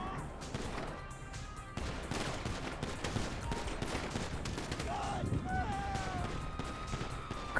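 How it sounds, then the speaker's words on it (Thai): Gunfire from zombie shooting in a GTA V mod game, dense bursts of shots and fusillades running continuously at close range, with game effects and some voice underneath. "เพื่อนมันยิงตัดหน้าแล้วเรายิงไม่โดนหัวมันเลย กระสุนเราก็จะหมดแล้วด้วย"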